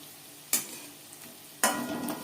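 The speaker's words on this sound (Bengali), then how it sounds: "হাই ফ্লেমে তেল আমি গরম করে নিয়েছিলাম ভাজবো মিডিয়াম ফ্লেমে" Battered onion rings hit hot oil over a medium flame, making two sudden loud sizzling bursts about a second apart, each fading into a softer bubbling crackle, close and without talk.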